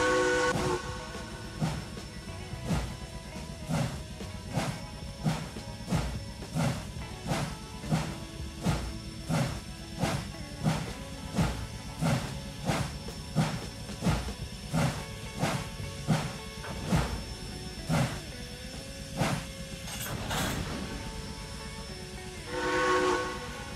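Locomotive number 92 pulling out in the Trainz 2019 railroad simulator: rhythmic chuffing and clanking beats repeat steadily with a sustained whistle-like tone and hiss, slowing near the end.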